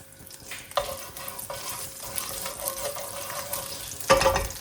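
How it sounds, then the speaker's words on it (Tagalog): Oil sizzles in a hot pan as pancit bihon ingredients are sautéed, a close hiss broken by stirring clatter and a sudden louder burst of frying near the end, without speech. "lagyan natin ng konting oil para mag-start na tayong maggisa"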